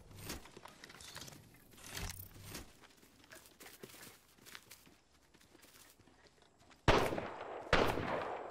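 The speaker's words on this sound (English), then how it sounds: "Taking fire!" Gunfire in the Apex Legends video game: scattered distant shots and rattling through the first seconds, then two loud close bursts near the end, over faint footsteps and gear clatter.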